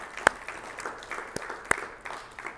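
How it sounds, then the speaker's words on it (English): An audience claps for study group leaders at a gathering for a study of the Gospel of John, a soft, steady patter of applause punctuated by a few sharper, louder claps. "I would just like to give them a round of applause"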